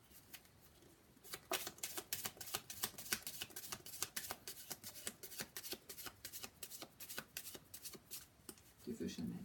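Tarot cards are shuffled and handled in a quiet room, giving a long run of soft, rapid riffling and flicking snaps close by, with one card dropping onto the pile, and faint speech underneath.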